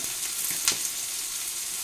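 Chopped bottle gourd frying in a pan, a steady close hiss of sizzling oil with a faint stir partway through, no talking.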